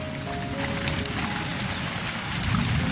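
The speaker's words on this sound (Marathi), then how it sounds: "पाऊस बघा किती पडतो" Heavy rain pours steadily outside a rural Konkan village house with banana plants nearby, a dense continuous hiss with low rumbling undertones and no talk.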